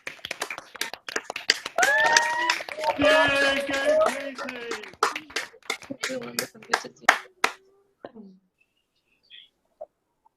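Graduates at a law and politics graduation ceremony held over video call clap and cheer after unmuting, giving scattered, uneven claps from several microphones, with overlapping voices calling out, then the sound thins to a few isolated taps and near silence.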